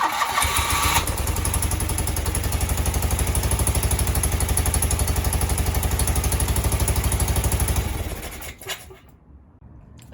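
A motorcycle engine running rich after its carburetors were tuned with the idle screws and chokes settles into a loud, close, steady pulsing idle, then cuts off near the end, leaving quiet.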